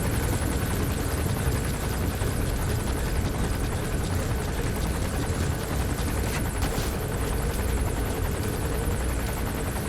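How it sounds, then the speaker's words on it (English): A helicopter in the Metal Gear Solid V game drones continuously with loud, dense rotor thrum and engine roar, steady and close throughout, with no talk over it. "The helicopter's intimidating, but it's got bad tunnel vision."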